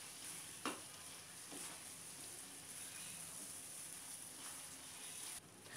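A kesar peda mixture being stirred in a pan after the flame is switched off, giving a faint continuous hiss with occasional soft scrapes of the spoon against the pan.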